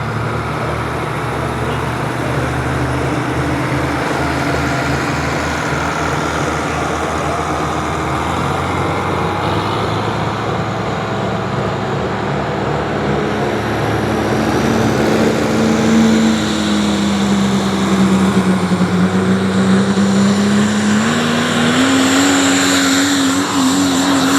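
Pulling truck at an Ohio truck and tractor pull, its engine roaring loud and close for a long run, the pitch climbing and rising sharply toward the end as the truck strains down the track.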